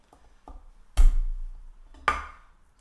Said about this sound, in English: Finely chop it.